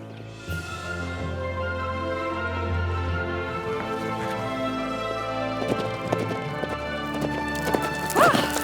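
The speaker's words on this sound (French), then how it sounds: "Très joli cheval." Hooves clop steadily as a horse walks nearby, with a short whinny and music playing underneath.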